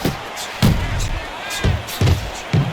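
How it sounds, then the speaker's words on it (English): Punches thud home in the Fight Night Champion boxing game as Roy Jones lands a two-punch combination on Bernard Hopkins: several dull, heavy impacts in quick succession over a steady crowd murmur, with some voice underneath. "Well-targeted two-punch combo by Roy Jones."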